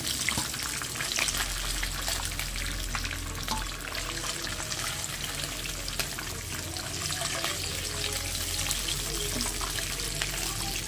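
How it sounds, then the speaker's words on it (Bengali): Desi tangra fish fry in hot oil, giving a steady, close, continuous sizzle and crackle with a low hum underneath and no talk. "মাছগুলো আমার আধ ভাজা করে হয়ে গেছে।"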